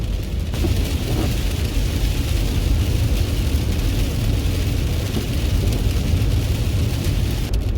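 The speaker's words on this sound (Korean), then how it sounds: "거의 다 왔는데 지금 막 폭우가 쏟아집니다" Heavy rain pours down steadily in a dense, loud roar, with no pauses and no voices.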